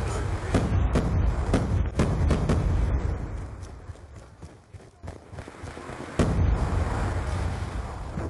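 Rapid explosions from the War Machine grenade launcher in Black Ops 2 multiplayer, a string of loud sharp booms with rumbling tails, a quieter lull in the middle, then more blasts.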